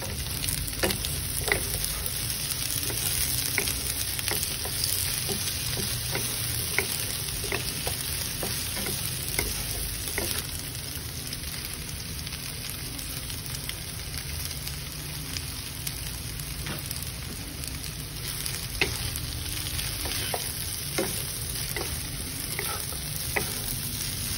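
Imitation crab sticks and carrot stir-frying in a pan give a steady, close sizzle, with frequent scraping and clacking strokes of a utensil stirring throughout. No one speaks.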